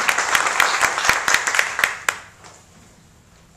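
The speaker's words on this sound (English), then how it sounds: "Alex is clapping for all these" A person in a conference audience claps close by, with a quick run of sharp, slightly uneven hand claps that stops abruptly and leaves a quiet room.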